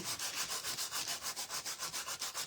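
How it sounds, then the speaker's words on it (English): Wooden star pieces being hand-sanded for a rustic display, a steady run of rhythmic rasping strokes, close and fairly loud, with no voices. "sand them off a little bit so we get a good surface on here."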